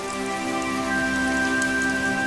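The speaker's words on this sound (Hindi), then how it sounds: "बरसात अब धीरे धीरे हल्की हो जाती है" Steady rain pattering on surfaces near a village shop, a dense even hiss of drops with faint tonal hum beneath, continuous and fairly loud throughout with no voices.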